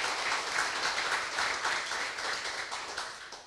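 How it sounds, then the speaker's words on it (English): Conference audience at ORConf 2019 applauding: steady, moderately distant clapping from a seated crowd, sustained evenly throughout and fading slightly at the close. "I think that's worth a round of applause for everybody who was involved there."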